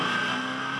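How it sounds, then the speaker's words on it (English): V8 ute race cars accelerate on a wet street circuit at the Clipsal 500 race, a steady loud engine roar held through the short moment. "trying to get on the power, the cars are slipping and sliding everywhere"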